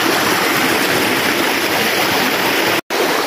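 A forest stream in wild bushland rushes in a loud, continuous wash of water, steady throughout with only a momentary dropout and no voices.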